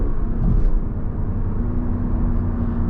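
A 2020 Lexus LC500 with a 475 hp V8 drones steadily from inside the cabin while driving, a low, continuous engine rumble with no talk over it.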